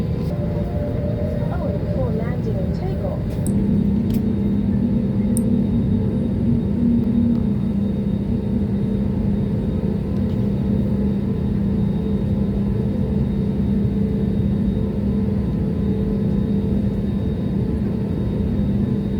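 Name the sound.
SriLankan Airlines airliner taxiing on the taxiway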